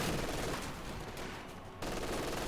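Sustained MG42 machine gun fire in Company of Heroes 2, a dense continuous rattle of bursts that dips briefly then returns at full strength, with no talk.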